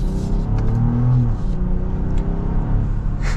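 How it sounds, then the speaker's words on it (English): A 2024 BMW X7 xDrive40i in Sport mode pulls with a steady, loud engine drone from inside the cabin, a rising tone easing upward over a few seconds with no one talking. "you can hear the turbo noises just a little bit"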